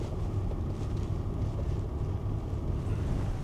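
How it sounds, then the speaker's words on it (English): Strong southwesterly wind on the edge of the River Severn by a small dockyard roars steadily across the microphone as a dense, continuous low buffeting with no break. "So I don't know how much of this you can hear because it's very windy."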